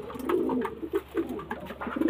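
Pigeons coo close by in repeated soft, throaty pulses, several overlapping calls in a steady rhythm with no voices.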